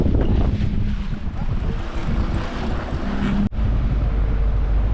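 A deep-sea fishing boat pulls into Uttan harbour after a fishing trip, with a steady low engine rumble, wind buffeting the microphone and water washing around the hull, loud and continuous throughout.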